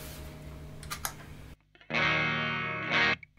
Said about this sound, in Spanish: Ahí con el mínimo de distorsión, igual se siente como que tiene distorsión,